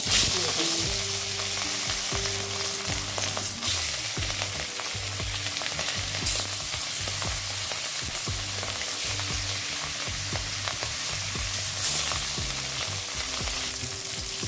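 Fish fries in hot oil with a constant loud sizzle and spatter, occasional scraping stirs underneath, continuous throughout.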